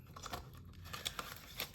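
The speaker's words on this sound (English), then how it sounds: "I am just gonna go ahead and put this into the vacation envelope" Paper envelope crinkling as cash is slipped inside, a short burst of close rustling and crumpling with a few sharper crackles, soft and continuous, with no voices.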